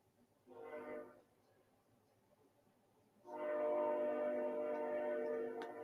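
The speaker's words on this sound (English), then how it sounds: "Excuse the train, y'all. I got the window open." A train passes outside an open window, its horn sounding in a brief blast followed by a longer, louder sustained blare with steady rumbling underneath.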